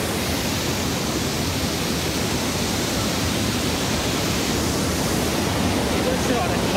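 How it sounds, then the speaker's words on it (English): A continuous, loud rush of a Yosemite National Park waterfall at high May flow roars evenly with no breaks, a dense broadband hiss that fills the whole scene. "look at the beauty. Waterfalls."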